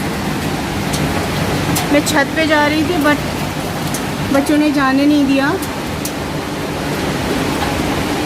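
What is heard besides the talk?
hail falling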